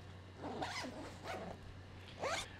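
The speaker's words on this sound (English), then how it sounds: "And then you can just zip it right back up." A backpack zipper is pulled shut in several quick zipping strokes, soft and close, with a faint steady hum in the background.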